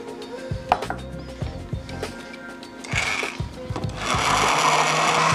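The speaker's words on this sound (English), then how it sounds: "Give these guys a little bit of a whisk first." A whisk beats ingredients in a bowl, striking the sides with a run of quick, uneven clinks and taps, then giving way to a denser, steadier rush of noise near the end.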